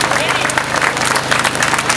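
Dense applause from a crowd at a neighbourhood festival casting in the port, steady and fairly loud throughout, with voices mixed into the clapping.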